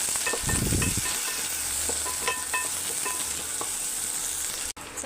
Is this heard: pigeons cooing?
no